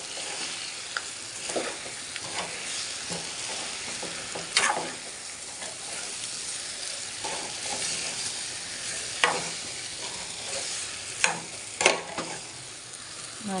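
Fried potato pieces are stirred in a sizzling pan, a steady frying hiss broken by scraping spoon strokes and several sharper clinks against the pan.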